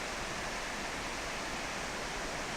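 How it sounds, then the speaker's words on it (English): A 20-metre vertical waterfall in a South Westland creek, heard as a steady, dense roar of falling water, broadband and unbroken, fairly distant and without voices. "just over here actually there's about a 20-metre vertical waterfall I can't get round"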